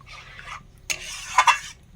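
A spoon stirs a cooled milk mixture in a pot in a few short scraping strokes, with light clinks against the metal.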